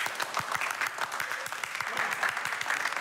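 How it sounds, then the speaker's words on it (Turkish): Crowds lining both sides of the road toward Buckingham Palace applaud Princess Anne and Mark Phillips, a dense, continuous patter of clapping from many people with distinct nearer claps standing out, no talk over it. "Bu güzel beğeni çifti çılgınlar gibi alkışlıyor."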